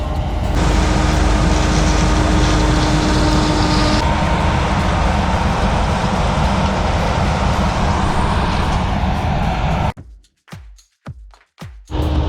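A combine harvester's heavy engine roars steadily with a whining drone for several seconds, then cuts to a few sharp, sputtering bursts.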